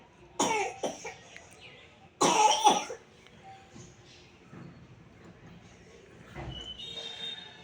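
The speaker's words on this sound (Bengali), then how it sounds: "তোমরাও তোমাদের বাচ্চাদের দেখেছো কিভাবে কাশছে" A child coughs in two sharp, loud bursts close by, the second fit longer, followed by quieter throat noises against a faint low background.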